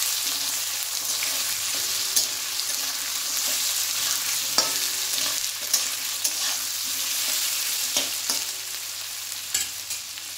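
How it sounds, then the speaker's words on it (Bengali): Potatoes sizzle steadily in hot oil with grated ginger and green chilli, stirred in a pan for a cabbage dish; constant frying hiss broken by occasional sharp scrapes and clinks of the spoon, close by and with no talk. "ভালোভাবে নেড়েচেড়ে আলুগুলোকে ভেজে নেব।"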